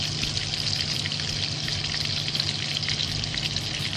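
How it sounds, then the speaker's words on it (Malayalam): Pieces of fish fry in hot oil for a fish curry, giving a steady, dense sizzle with crackling pops throughout, close by and with no talking. "ഇനി നമുക്ക് ഈ മസാല നമുക്ക് ഇറക്കി വെച്ചതിന് ശേഷം നമുക്ക് മീൻ പൊരിച്ചെടുക്കാം"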